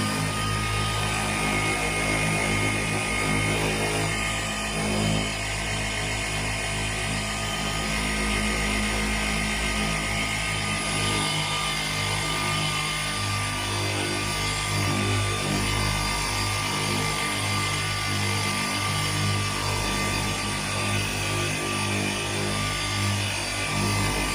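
A cordless polisher removes sanding marks from a paint surface, running as a steady, continuous motor whir with an even hum throughout, close by and alone without talk.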